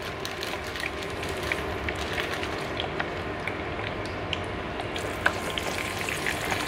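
Frozen potatoes straight from the freezer fry in hot oil, giving a loud, dense, continuous sizzle with scattered crackles and pops throughout, close up and with no talking.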